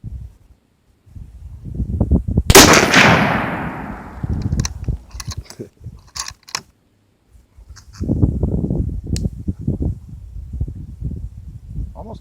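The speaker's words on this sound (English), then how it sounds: "Now we'll go ahead and shoot for group." Gunshots at an outdoor shooting range: one sharp loud report with a ringing decay, followed by scattered faint clicks and handling noises, then low rumbling background.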